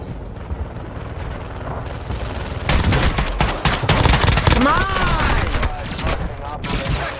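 Heavy gunfire in Call of Duty DMZ inside Building 21, rapid close automatic bursts that intensify midway, with voices shouting over the shooting.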